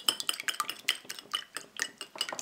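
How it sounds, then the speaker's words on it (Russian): A fork or whisk beats eggs in a bowl, plain with no salt or pepper added, making quick, rhythmic clinking strokes against the dish, close and fairly quiet. "И будем их взбивать без добавления соли и перца."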